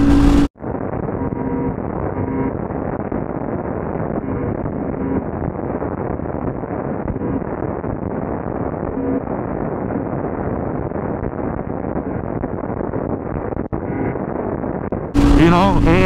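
A Ducati Superleggera V4 motorcycle roars continuously as it is ridden, its muffled engine blending with steady wind buffeting close to the microphone.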